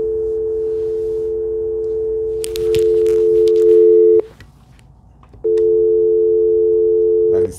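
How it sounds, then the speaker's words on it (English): A hotel room telephone receiver in Santiago, Chile gives a steady, loud electronic tone that runs for several seconds, breaks off briefly with some handling noise, then resumes. "I have a phone here."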